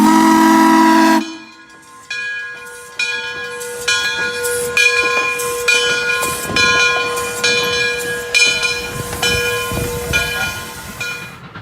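Frisco 1630, a 1918 Baldwin steam locomotive, sounds a loud, tonal whistle blast, then after a brief pause more whistle tones ring out over the rumbling, hissing train for the rest of the stretch.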